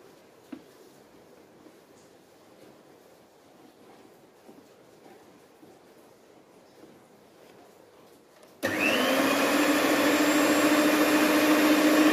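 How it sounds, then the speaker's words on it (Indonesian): An electric mixer beating ice cream batter switches on after a long quiet stretch and then runs as a loud, steady motor whine until the end. "ketika proses mixer ini usahakan dia sekitar 10 menitan"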